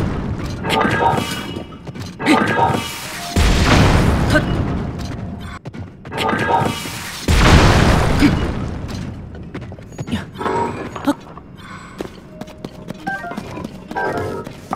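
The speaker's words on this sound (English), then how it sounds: "can I blow it up with the cannon?" Two heavy booming blasts from a cannon in Zelda: Tears of the Kingdom sound loud and close, each with a rumbling tail, mixed with game sound effects and someone speaking.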